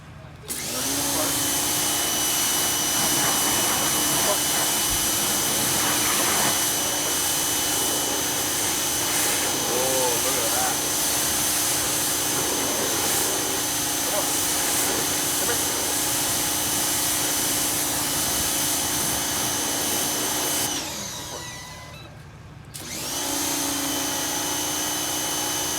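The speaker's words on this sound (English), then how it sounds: "the power washer. I'm just gonna keep the shorty handle and go with that." A power washer with a short wand sprays a car during a wash, a loud steady hiss and roar that runs almost without pause, briefly cutting out and restarting near the end.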